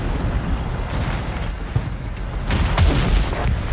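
Tank cannon fire in the Project CW tank combat game, deep booming blasts with a rumbling low end, a couple of sharper shots near the end over constant battle noise.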